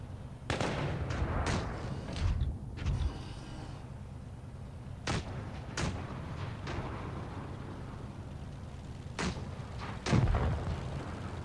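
Tank cannons in World of Tanks Blitz boom out in a battle, with several sharp, heavy shots at irregular intervals over a steady background rumble, the loudest blast coming near the end.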